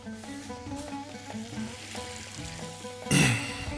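Diced onions with garlic and ginger fry in hot oil, a steady close sizzle running throughout and swelling into a louder, brighter burst of crackling near the end as the pan is stirred, with no talking.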